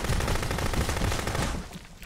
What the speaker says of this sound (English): B-52, I got shots fired at the outpost.